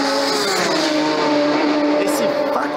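Four-cylinder racing motorcycles at the Isle of Man TT road races, a loud high engine howl holding a steady pitch before a brief rising surge near the end, with voices talking over it.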